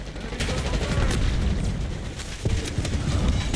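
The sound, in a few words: thermo grenade explosion in video game Black Ops 6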